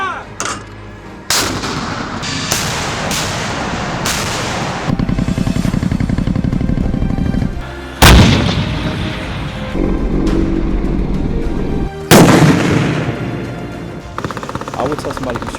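Military artillery and gunfire on a National Guard firing range: loud, booming blasts and sharp shots, several heavy detonations at irregular intervals, each followed by a long, rumbling decay.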